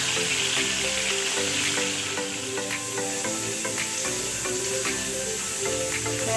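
Beef browning in a hot pan, a continuous close sizzle broken by light irregular stirring and spattering ticks, with gentle music playing underneath.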